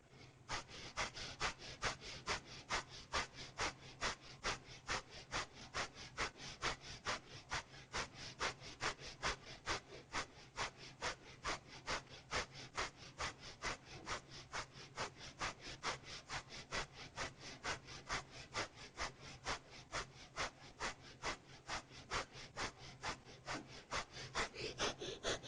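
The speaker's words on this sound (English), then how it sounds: "we'll do a little breath of fire" Rapid rhythmic breath of fire during a yoga twist, a long run of quick, evenly spaced forceful nasal exhalations pulsing steadily, close and fairly quiet.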